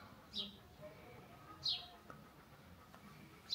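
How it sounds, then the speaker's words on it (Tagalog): Three brief, high chirps from a bird spaced over a few seconds, fairly distant, over a soft outdoor background hum in Spain. "Maraming ibon dyan, oh."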